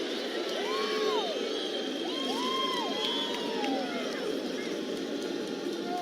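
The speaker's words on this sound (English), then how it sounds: "Crowd's getting into it now." A large arena crowd cheers and roars steadily at an NCAA men's basketball NIT game between Cincinnati and Indiana State, with whoops and shouts rising over a dense, continuous wall of crowd noise.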